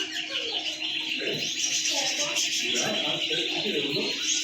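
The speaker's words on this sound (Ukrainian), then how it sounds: "Різні птиці, птахи." Many small birds chirp and tweet in a busy pet shop in Spain, overlapping calls with people talking faintly in the background.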